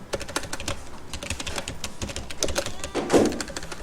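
Close, rapid clatter of keys on a computer keyboard during AutoCAD drafting, with irregular bursts of tapping and one heavier key press near the end, no talking.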